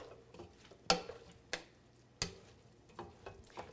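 A spoon stirring chili with extra black beans in a pot, a few distinct knocks and scrapes spaced about a second apart over a low background, fairly quiet and close, no talking.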